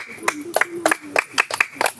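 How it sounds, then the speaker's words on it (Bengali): People clap by hand at an Eid sports prize-giving, about eight sharp, close claps in an uneven rhythm, with voices talking between them. "হাততালি দাও।"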